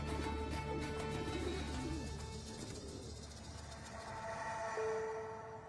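Pigeons coo softly at rooftop pigeon towers in Cairo: a low continuous burble of cooing with distant city hum and faint tones, steady throughout.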